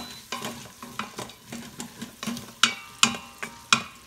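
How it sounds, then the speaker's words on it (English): Chopped onions browning in meat drippings inside an Instant Pot, a crackling sizzle punctuated by regular scraping stirs roughly twice a second, the last few strokes louder and sharper, heard up close. "I'm gonna brown these onions in that those drippings down there."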